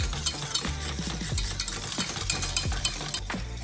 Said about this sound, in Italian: due tuorli, due cucchiai di zucchero. Cominciamo a mescolare.